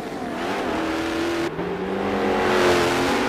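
A race car in Forza 7 at Circuit de Catalunya revs hard through corners, engine note climbing with a sharp shift partway and then building again, loud and close with no talk.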